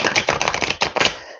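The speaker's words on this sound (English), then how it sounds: "Shuffling the deck" A deck of tarot cards is shuffled close by, a rapid run of crisp papery riffling clicks that ends in a short final flutter, with no voices.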